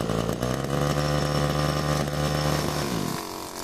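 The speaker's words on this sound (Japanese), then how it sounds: "しかしキャブレターのセッティングが合っていないため、なんだかちょっと変な排気音でした。" A two-stroke brush cutter fitted with an expansion chamber exhaust and a mistuned carburetor runs at a steady, buzzy high idle with a slightly uneven exhaust note, then drops in pitch and sputters near the end.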